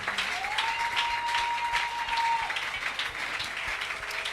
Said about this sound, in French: Acclame bien, acclame bien. Acclame bien. Acclame très, très fort.